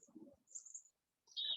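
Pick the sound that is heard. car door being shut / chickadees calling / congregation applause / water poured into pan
chickadees calling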